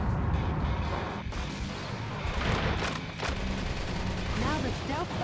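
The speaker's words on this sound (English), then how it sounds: "I like the Half-Life era explosion sound effects." Dense, continuous bursts of explosions and gunfire fill a Metal Wolf Chaos XD video game battle, forming loud, overlapping blasts with no break.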